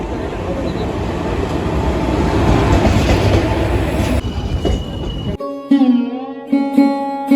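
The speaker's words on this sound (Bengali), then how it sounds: "অ্যানাউন্সমেন্ট করছে আমাদের ট্রেন কিন্তু চলে এসেছে।" A train pulls into a station platform, its loud rumble and wagon noise filling the first seconds before easing off, followed by a clear multi-tone station announcement chime or horn with pauses.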